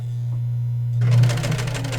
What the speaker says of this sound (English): So I'll do some reverse stitches here.